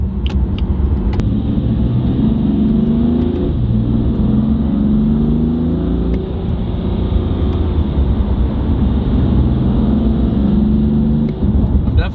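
BMW M4 fitted with a titanium exhaust, revving under turbo boost: a loud, continuous, close engine drone whose pitch rises and falls in smooth sweeps for the whole stretch, with no pauses.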